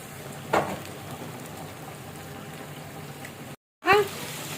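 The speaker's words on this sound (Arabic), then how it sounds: "هنحمرها بقى ونفضل نشوح فيها" Food seasoned with salt and black pepper fries in a pan while being stirred, giving a steady, close sizzling hiss. A voice cuts in briefly twice.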